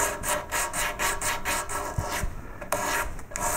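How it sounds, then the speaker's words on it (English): Folded sandpaper rubbed back and forth in the groove of a carved wooden gadroon moulding, a close, scratchy rasping in quick regular strokes, then a few slower, uneven passes. "One little trick here is to fold the sandpaper, use small bits."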